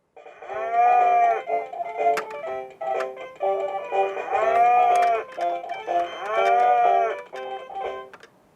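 A toy or children's sound effect of a cow mooing, sounding in three long, loud harmonic calls with short breaks between them, and no talking over it.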